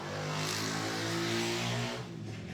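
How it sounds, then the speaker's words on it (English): A motorcycle engine drones steadily outside, heard through open windows, a sustained buzzing hum that swells and then fades as it passes by. "You can probably hear the motorcycle going by."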